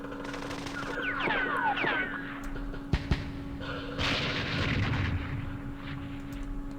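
Gunfire and explosions from the Vietnam war game Campaign Series Vietnam, at the Dien Bien Phu battle: a few sharp reports and booming blasts over a rumbling, sweeping battle backdrop, with no talk.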